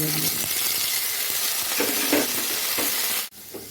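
Mixed vegetables with curry leaves and pepper sizzle steadily in a hot pan, with scraping stirs throughout, close and loud, cutting out abruptly near the end before the frying resumes.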